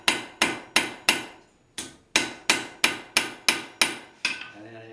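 Loud, ringing hammer blows on hot metal on an anvil while forging a horseshoe heart, about a dozen strikes in a steady rhythm with a brief pause partway through, each note decaying quickly.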